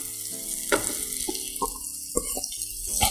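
Curry leaves dropped into hot oil with ground paste crackle and sizzle loudly in a steady hiss, with scattered pops and stirring knocks close by.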